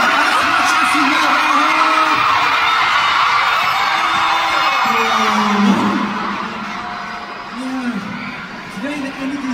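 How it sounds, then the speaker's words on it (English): A concert crowd at a Manila fan event screams continuously in a loud, sustained roar, with an amplified voice speaking over it before the cheering eases slightly near the end. "Shall we scream louder?"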